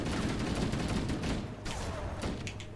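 Rapid gunfire in Halo: Combat Evolved during the mission The Maw, a dense, continuous burst of shots close up, fairly loud and steady with slight dips, no talk over it.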